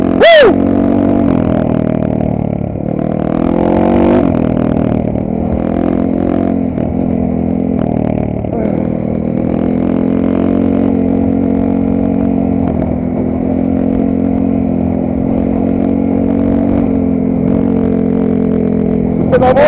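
A Geon Dakar GNS300 enduro motorcycle runs with its exhaust baffle removed, giving a steady, loud, close engine drone with occasional blips of revving.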